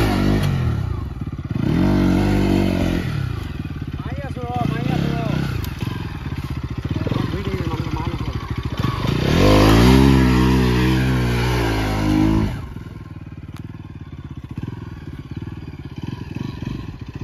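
A Bajaj Pulsar NS200 motorcycle revs through a night stunt ride in Assam, its engine rising and falling in loud close bursts with clattering and scraping, while a voice speaks now and then.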